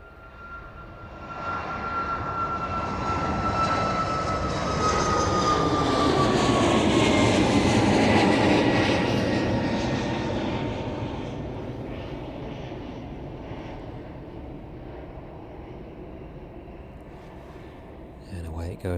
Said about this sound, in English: Goes there, climbing out of runway 27 then.